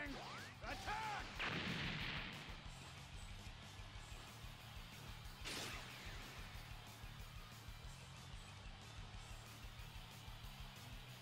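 Big Bang Attack energy blast in the fighting game Dragon Ball Xenoverse during a ranked battle: a loud roaring burst of energy and explosions, with a sharp whooshing hit midway, over continuous rumbling game noise.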